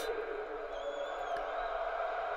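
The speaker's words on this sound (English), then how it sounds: "the crowd noise, that crowd noise is ridiculous" A packed stadium crowd at the PSG v Bayern Champions League semi-final roars in a steady, echoing wash, with a whistle-like tone rising briefly above it.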